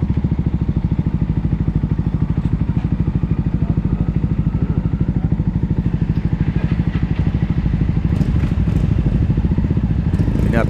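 A motorcycle idles steadily up close at a gas station during refueling, its engine running in a continuous even putter with light clatter over about ten seconds.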